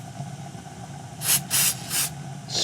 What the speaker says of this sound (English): spray it on the pedal surface itself, and that may help the squeak go away